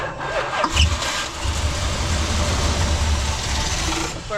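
A 1978 Dodge Ram crew cab truck engine cranks and catches, then settles into a steady low rumbling idle that stays loud and close with no voices.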